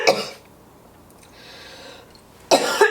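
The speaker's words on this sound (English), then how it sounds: "Okay, sorry, I was coughing." A person coughs close to the microphone, one sharp burst at the start and another near the end, with quiet room tone between.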